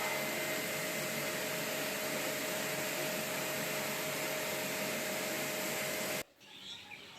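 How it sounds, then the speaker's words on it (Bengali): A jet pump sprays water over dismantled Panasonic and Samsung air conditioners during servicing, producing a loud, steady, close-up hiss and roar that cuts off abruptly near the end. "Jet pump wash."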